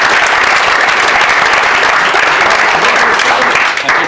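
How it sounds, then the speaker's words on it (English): A large audience applauds at a talk, dense loud clapping that holds steady throughout and thins slightly near the end. "Big round of applause"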